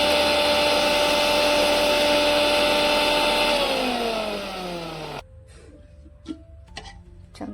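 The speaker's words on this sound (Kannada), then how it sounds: "ಇನ್ನೊಂದು ಸ್ವಲ್ಪ ಮಿಕ್ಸರ್ ಹಾಕೊಳ್ಳೋಣ." A mixer grinder blending tomato chutney whirs loudly and steadily, its pitch dropping as it winds down and stops after about five seconds, followed by a few clinks and taps in a quiet room.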